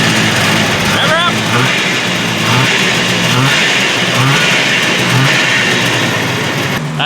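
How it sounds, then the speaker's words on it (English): Small snowmobile engine revving up and down close by just after a one-pull start, a steady mid-pitched drone with rising and falling throttle sweeps, people talking over it. "Rev her up."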